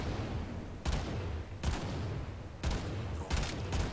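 Gunfire in a shooter video game aimed at headshots: four or five spaced single shots, fairly faint, over a steady hiss of game ambience.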